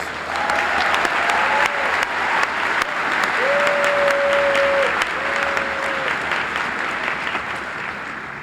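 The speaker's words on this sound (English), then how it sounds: "Can we give them a round of applause, please?" Audience applause fills a college commencement hall, steady and dense, with a few sustained whistle-like tones rising over the clapping partway through.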